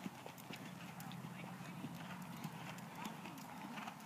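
Horse hooves thudding at a canter during a riding lesson, a steady distant beat under constant broadband noise, with an instructor's voice faintly present.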